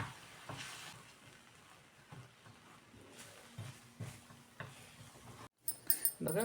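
Wheat-flour dough mixture with spices and semolina sautéing in a pan on medium gas, soft intermittent sizzling and scraping stirs, fairly quiet, with a brief pause and then clattering stirs at the end.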